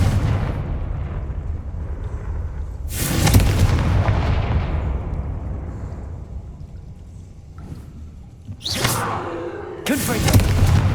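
Confringo spell blasts in Hogwarts Legacy, several loud booming explosions spaced apart with long rumbling tails, over game ambience and a voice in the clip.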